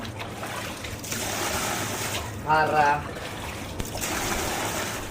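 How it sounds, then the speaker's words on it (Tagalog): Running water pours steadily into a container as it is collected for storage, a continuous hiss lasting throughout while a person talks over it. "Mag-ipon tayo ng tubig"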